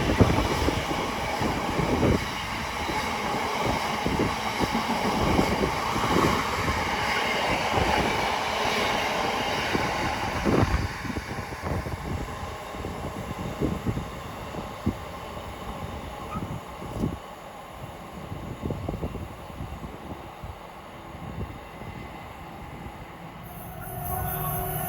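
A Class 66 freight locomotive rumbles through Watford Junction, its wagons rolling past with steady wheel clatter and occasional metallic squeal, loud at first and slowly easing off over a long continuous pass.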